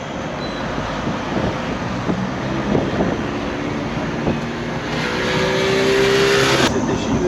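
A tour vehicle in Krabi rolls along the road with a steady engine and road rumble, a constant near drone that grows slightly louder toward the end.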